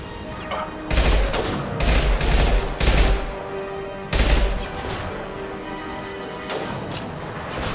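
Repeated bursts of heavy gunfire in Mass Effect 2, several loud volleys a second or so apart with crashing impacts, over game ambience and occasional faint voices.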